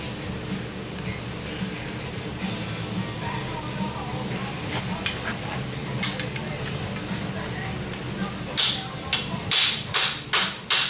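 Old VW Deluxe metal trim is hammered smooth along its channel, starting with faint scattered taps under a low background hum and building to a run of sharp, loud, close metallic strikes at the end.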